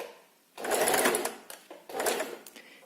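A sewing machine stitches an invisible zipper in two steady, loud bursts with a short pause between them, with no talking.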